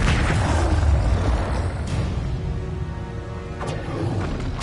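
Expulso spell blast in Hogwarts Legacy, a heavy low booming rumble at the start that decays, followed by sharp whooshing bursts and thuds.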